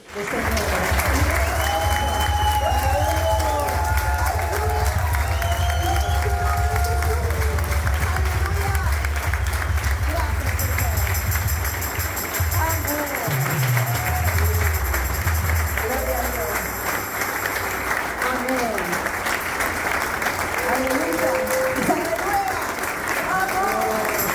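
Sustained applause from a large church congregation fills the space, steady and loud throughout, with voices and music mixed underneath.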